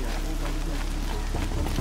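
Steady rain falls in the video game Horizon Zero Dawn, a continuous broadband hiss of drops on surfaces with no break across the short stretch.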